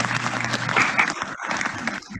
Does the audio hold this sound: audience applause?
yes